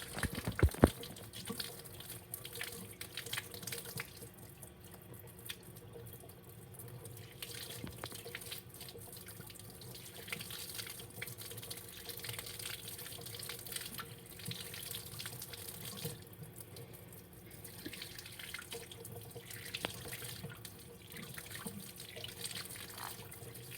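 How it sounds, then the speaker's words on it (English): Hot water runs steadily from a sink tap, a continuous hissing splash at moderate level with occasional small clunks, no voices. "now we're gonna turn on the hot water"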